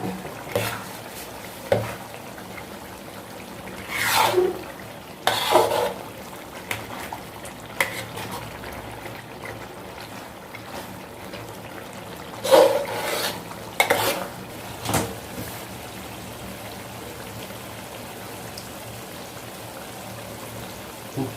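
Fried anchovies being stirred into petai sambal in a pan, with a spoon scraping and clinking against the metal in a few distinct bursts over a soft, steady background.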